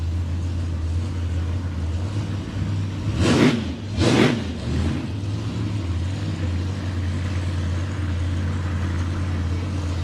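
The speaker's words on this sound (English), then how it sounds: "About to bring him up into his burnout routine." A steady, heavy supercharged Holden Torana engine rumble surges twice in quick succession as the throttle is blipped hard before a burnout, then settles back into a loud idle.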